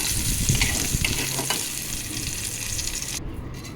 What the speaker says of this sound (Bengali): তেলটা ছিল তাতে আমি ক্যাপসিকাম দিয়ে একটু ভাজা ভাজা করে নিলাম